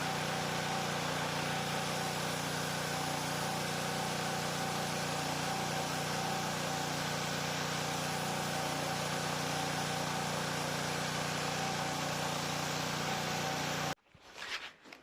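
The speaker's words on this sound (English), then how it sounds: "We're going to test out the power washer and see how we get on with it." A petrol power washer engine runs steadily close by, a constant loud droning hum with a sustained spray hiss, cutting off abruptly near the end.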